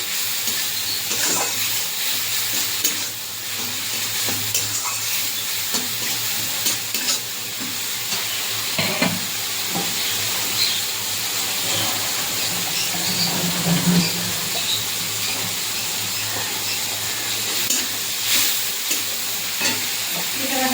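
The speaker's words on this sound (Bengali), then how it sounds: "রসুন আর পেঁয়াজটা ভালো করে তেলের মধ্যে কষিয়ে নেবো" Garlic and onion sauté in hot oil for a fish and potato curry, with a continuous close sizzle and frequent scraping stirs of a spatula across the pan for about twenty seconds.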